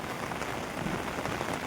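Heavy rain falls in a steady, dense hiss of drops striking surfaces, continuous and fairly close with no voices.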